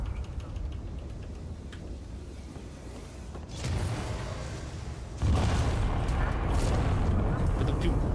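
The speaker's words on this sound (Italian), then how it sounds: "con tutte queste esplosioni" Explosions rip through a spaceship in the video game Alien: Isolation: a continuous low rumble swells into two heavy booming surges, the second louder and sustained to the end.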